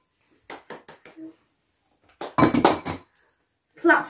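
Eggs are cracked into a bowl for cupcake batter at home: a quick run of four sharp knocks on the bowl's rim, a short splat, then a later louder clatter and knock, with people talking between them.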